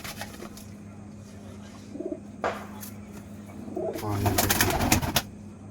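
A long-size Kaldum pigeon coos in a few short, soft bursts close by, with some handling noise and a faint low hum in the background.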